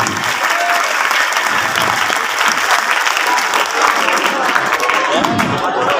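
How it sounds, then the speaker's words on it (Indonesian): An audience at an Isra Mi'raj religious gathering claps loudly and steadily for the whole stretch, a dense, close wash of applause with crowd noise mixed in. "Tepuk tangan buat anak-anak kita."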